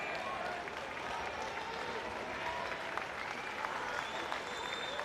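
Crowd applause and cheering at a school swimming carnival pool, a faint, continuous wash of clapping heard from a distance with some voices mixed in.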